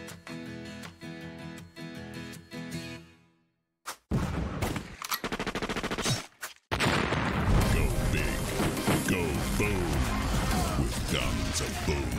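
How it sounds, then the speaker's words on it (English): Gunfire and booming explosions from a 4v4 shooter video game advert: dense, loud bursts of shots and blasts that follow a short stretch of music and a brief gap. "The sound of big booming 4v4 friend fragging action."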